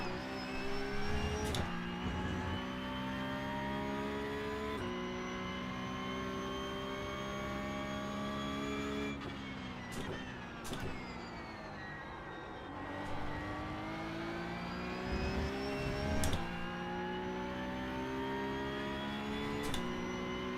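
Racing video game race car engine drones steadily and loudly throughout, with sustained tonal whine and pitch shifts as the car shifts gears and revs through corners, no voices present.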